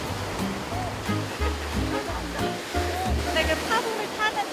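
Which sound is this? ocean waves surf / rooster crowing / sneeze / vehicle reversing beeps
ocean waves surf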